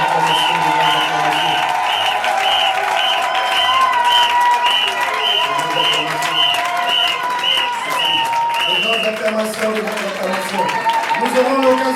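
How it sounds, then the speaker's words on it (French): A church congregation applauds loudly and steadily with crowd noise, while sustained music plays throughout. "Alors acclamons très fort l'Éternel"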